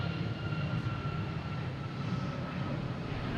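A United Airlines jet rumbles at Boston Logan International Airport, a steady broadband engine roar at moderate distance that holds an even level throughout the short stretch, with no talking.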